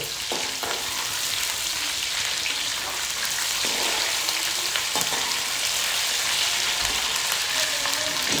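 Onions frying hard in hot oil for prawn pulao, a loud, dense, continuous sizzle with a few faint stirring taps, close and unbroken by talk.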